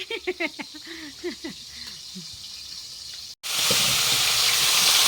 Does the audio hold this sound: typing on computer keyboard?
no